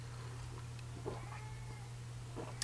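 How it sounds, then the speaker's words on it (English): A cat meows a few times, faint and somewhat distant, over a low steady background hum. "He's meowing in the back."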